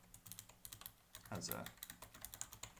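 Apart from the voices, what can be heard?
typing on a Razer Ornata V2 Chroma keyboard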